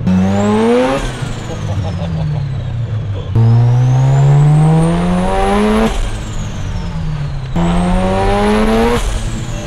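A built Mazda RX-7 rotary engine revs hard on a dyno in three long rising pulls, each climbing to a scream before cutting back, loud and close throughout.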